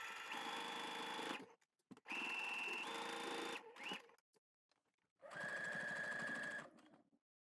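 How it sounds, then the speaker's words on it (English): Sewing machine stitching in the ditch to secure a trouser waistband facing, three loud close bursts of fast whirring stitching separated by short pauses and small handling clicks, no talking. "I'm then going to sew that waistband facing down. I'm using a stitch in the ditch"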